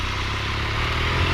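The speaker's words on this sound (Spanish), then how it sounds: "Aquí la Honda Crossfighter suena así." A Honda Crossfighter motorcycle engine runs steadily close by, a continuous throbbing rumble with a faint mechanical clatter and no speech.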